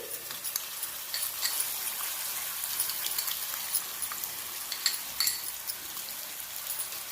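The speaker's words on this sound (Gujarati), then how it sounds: "હવે આપણે જે મરચું બનાવીને રાખ્યું છે તે એડ કરીશું" Chili paste goes into garlic sizzling in hot oil for a potato snack, producing a quiet, crackling sizzle with scattered pops and spits over a constant hiss.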